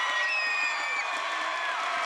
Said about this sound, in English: and the crowd's on its feet.